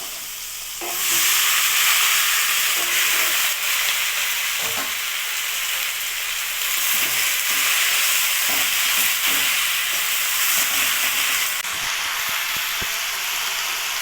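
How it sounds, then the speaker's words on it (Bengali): Fresh taro leaves dropped into hot oil with turmeric in a frying pan, a loud burst of sizzling followed by steady crackling frying and intermittent scraping stirs of a spatula, no voices. "এখন আমি এখানে কচু শাকগুলো দিয়ে দেবো"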